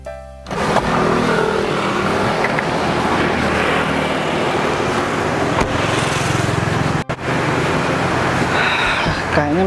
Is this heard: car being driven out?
yes